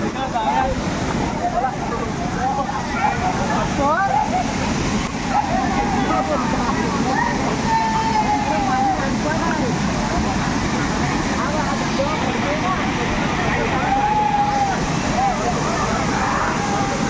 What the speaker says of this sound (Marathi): किती एकदम उंच धबधबा आहे